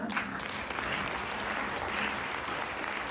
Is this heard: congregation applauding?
yes